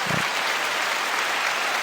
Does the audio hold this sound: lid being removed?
no